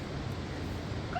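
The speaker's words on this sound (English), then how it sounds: "he's probably coming inside now, making the dogs bark" Small house dogs in a home craft studio whimper and yip faintly at a distance, a soft continuous whine over a low background hum.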